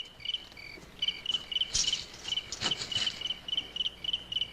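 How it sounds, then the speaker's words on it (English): Night crickets on a Western trail chirp in steady, regular pulsed trills, fairly close and clear, with no voices over them. "Hey, Sam, those crickets bother you?"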